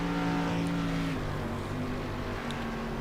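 Race cars roar around a dirt oval track at a summer nationals night race, a continuous engine drone with shifting pitch heard from a moderate distance, no voices.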